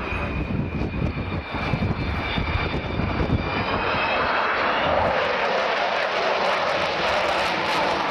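Avro Vulcan XH558 delta-wing bomber making a low overshoot at the Royal International Air Tattoo, Fairford, its four jet engines producing a loud, sustained roar with a rising whine that swells and broadens as the aircraft passes close.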